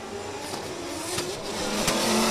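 A carbon Kevlar BMW F22 drift car engine at a 2023 Oman drift championship battle round, revving and steadily building in loudness, heard at moderate distance with brief sharp bursts over a broad roar.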